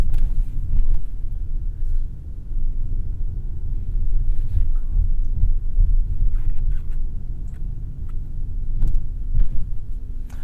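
A 2025 Lincoln Nautilus rolling over road bumps, heard from inside the cabin as a steady low road rumble broken by scattered dull thumps and knocks as the suspension hits each bump.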